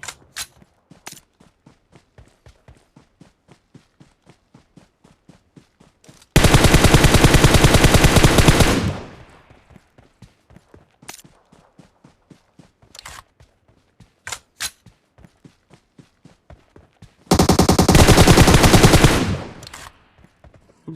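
Automatic gunfire in PUBG Mobile: loud sustained bursts of rapid shots around 7 and 18 seconds, with sparse single shots and clicks scattered between them, no talk.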